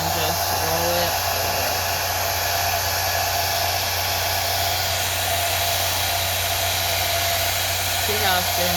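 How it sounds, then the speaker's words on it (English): A blow dryer runs continuously at close range while drying a wig, giving a loud, steady whooshing hum with brief rustling at the start and end. "Keep your blow dryer going up, not down, so that the hair is coming down, and just roll it."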